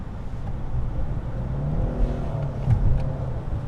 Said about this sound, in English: Okay, we're now revving up.